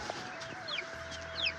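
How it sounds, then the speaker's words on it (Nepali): Chickens going to roost in a Nepali village give short, soft clucks over a steady low background hum, with no voices. "कुखुरा बाँस बस्न लागेको"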